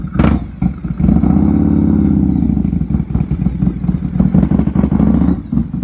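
A 1993 Harley-Davidson Softail motorcycle pulls away, its loud, close V-twin engine rumbling with a throaty lope, revving up and holding a deep, throbbing drone throughout without talk.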